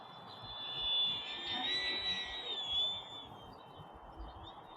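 An XFLY Tasman 1500mm RC airplane flies past with a thin, high electric whine that swells and fades over a few seconds, heard at a moderate distance above faint outdoor background noise.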